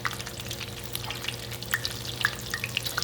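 Chicken taquitos frying in hot oil in a pan, a dense, close sizzle with small pops and spatters throughout, steady and fairly loud with no speech.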